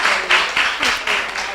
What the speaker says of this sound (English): Clap them, man.